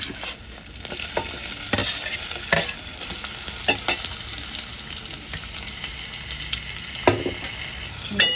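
Chopped tomatoes and curry leaves sizzle in a frying pan for a Nellore-style fish curry, with a spoon scraping and stirring in repeated strokes over a steady close hiss.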